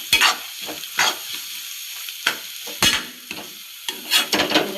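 A spatula stirs egg podimas frying in a pan, giving scattered scraping strokes with a soft sizzle underneath, close and irregular.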